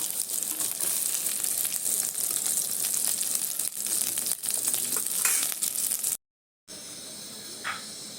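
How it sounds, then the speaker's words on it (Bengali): Cauliflower pieces fry in hot oil with a dense, continuous crackling sizzle close by, interrupted once by a brief silent cut before the frying resumes. "ফুলকপিটা ভালো মতো ভাজা হয়ে গেছে, এবার আমি এক এক করে নামিয়ে নেব।"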